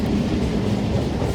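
A train rolls past near a Munroe Island, Kollam rail line, its steady low rumble and faint clickety-clack of wagon wheels filling the short stretch without a break and with no voices.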